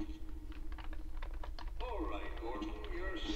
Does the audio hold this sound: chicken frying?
no